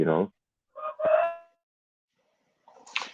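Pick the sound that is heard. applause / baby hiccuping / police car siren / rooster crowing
rooster crowing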